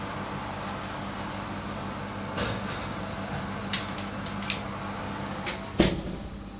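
A fierce oven's door opened and shut while a burnt Basque cheesecake goes in: a few separate clunks and knocks of the metal door and rack, moderately close, spread over a quiet kitchen hum.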